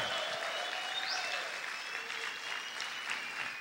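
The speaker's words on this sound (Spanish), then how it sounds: "Grite y aplaude fuerte al Señor." Church congregation applauding loudly during a Spanish-language sermon, a dense, steady wash of clapping from many hands that fills the room throughout.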